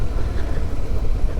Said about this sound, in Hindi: पूरी बाइक वाइब्रेट हो रही है मस्त वाली।